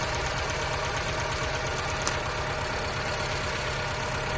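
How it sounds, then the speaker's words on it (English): Honda car engine idling with one ignition coil pulled, a steady low rumble with a faint uneven knock in the background and no speech. "Notice that when I remove the ignition coil, the engine is running the same."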